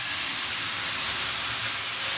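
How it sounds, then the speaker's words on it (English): Steam bursts out in a steady, broadband hiss that stays loud and close for a couple of seconds, with no voices. "why don't you hit us with some steam there, Drew?"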